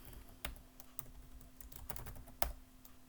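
Typing on a computer keyboard, quiet and close, with a sparse irregular run of separate key clicks and a slightly harder strike near the end, no talking.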